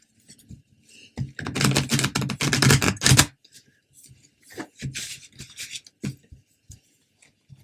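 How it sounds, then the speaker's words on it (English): Tarot cards are shuffled up close, a dense burst of rapid riffling clicks followed by softer, scattered card flicks and handling, no talk. "Shuffle one more for you."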